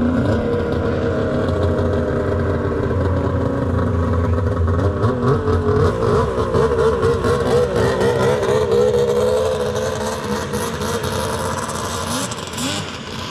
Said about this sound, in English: Let's get that thing ripping, Trenton.